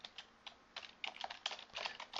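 Quick, light keystrokes on a computer keyboard, about a dozen clicks in uneven bursts, close and faint against a quiet room.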